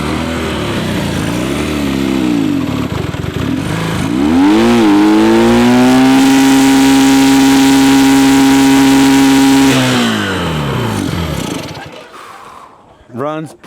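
An old Honda Dream motorcycle found abandoned in a warehouse runs close by, its engine revving up in a rising whine, holding a loud steady note for several seconds, then dropping away and cutting off, with voices speaking around it.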